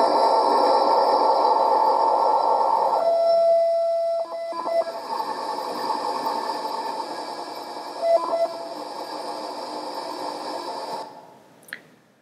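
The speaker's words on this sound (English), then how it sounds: "But if we slow it down, disk data sounds like this." Floppy disk data signal slowed down into the audible range, a steady buzzing, modem-like tonal drone with layered harmonics and brief clicks, loud and continuous for about eleven seconds before cutting off abruptly.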